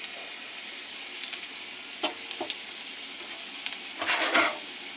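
Bay leaf and cumin seeds hit hot oil for tempering, giving a faint, quiet sizzle broken by a few sharp crackles and pops, with a brief louder burst near the end.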